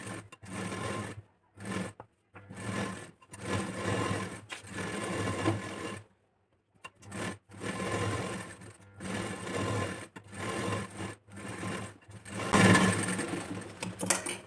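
Sewing machine stitching the lining of a princess-cut blouse, bursts of rapid mechanical whirring that start and stop in short runs, close and fairly quiet, with no talking.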